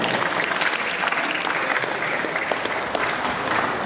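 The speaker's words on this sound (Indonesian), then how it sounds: "Ya, tepuk tangan dulu." A crowd at a Maulid Nabi commemoration gathering applauds. Steady, dense clapping runs at an even loudness throughout, with no voices over it.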